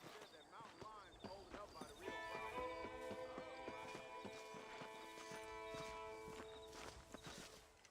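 Horse hooves clip-clop at a steady walking rhythm while riding in Red Dead Redemption, played on the Nintendo Switch, with a sustained musical tone and game voices talking over the steps.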